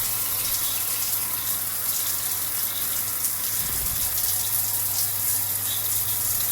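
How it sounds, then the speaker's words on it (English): Water runs steadily from a shower faucet, a continuous hissing gush with no pauses, close and fairly loud, with a brief low thump partway through. "That's water is running."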